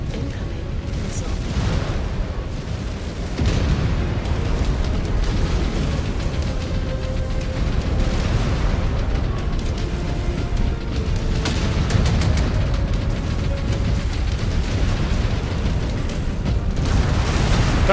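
Incoming missiles strike in Wolves of Tukayyid, a mech combat video game, with repeated heavy booms and bursts over a continuous low battle rumble and loud layered effects.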